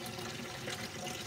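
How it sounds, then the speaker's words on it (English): Tap water runs steadily into a chemistry lab sink, a continuous close hiss and splash with no pauses or voices. "I need to keep this water running because there's a bunch of chemical here, or chemical residue."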